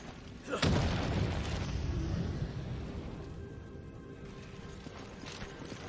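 A loud explosion in Resident Evil 5 gameplay erupts with a sudden boom, then a sustained low rumbling roar that slowly fades over several seconds.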